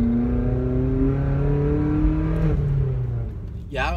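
A Vauxhall Corsa fitted with a cone air filter pulls away in first gear at about 4,000 revs, its engine note loud and close with a steady, rising drone, and a brief squeal-like sound near the end.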